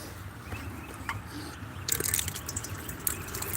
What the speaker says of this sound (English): They have a dog water station.